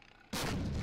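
A rocket artillery explosion in the war game Men of War Assault Squad 2 erupts suddenly into a loud, broad roaring blast that holds at full strength after a quiet lead-in.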